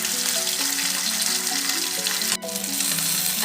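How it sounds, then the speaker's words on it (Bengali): Pomfret fish frying one at a time in a pan for a Bengali fish curry: a steady, close, dense sizzle throughout, with one brief sharp break in the middle and no talking. "আমি একটা একটা করে ভাজবো"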